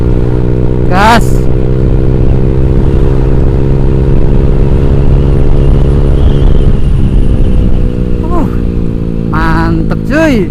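A Honda Vario 150 scooter fitted with a Black Devil aftermarket exhaust revs and rumbles loudly and steadily for the whole stretch, with rising and falling throttle sweeps, while riders' voices break in briefly over the engine.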